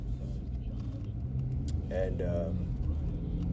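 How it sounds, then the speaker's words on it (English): A car driving to a skate park, its steady engine and road rumble running low and continuous throughout, with a voice speaking over it. "I'm driving to the skate park"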